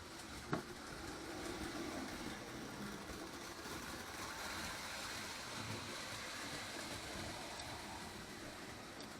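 A reconditioned prewar Lionel #254 toy electric train runs steadily on its track, giving a continuous faint whirring rumble with one small click near the start.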